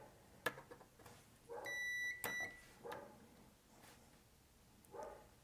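A digital multimeter set to continuity mode gives a single steady electronic beep of about half a second as its probes touch two ground points, with faint handling clicks and soft sounds before and after.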